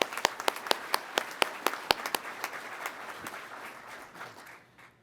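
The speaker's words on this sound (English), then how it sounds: "So a round of applause for amazing maintainers." At a pilot training graduation, a few nearby sharp individual claps ring out over a scattered audience round of applause that thins and fades out toward the end.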